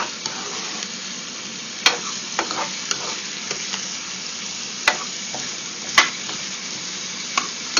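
Zucchini and other vegetables sauté in a pan with a steady crackling sizzle, close and moderately loud. A utensil scrapes and taps against the pan now and then, giving a few sharper clacks. No one speaks.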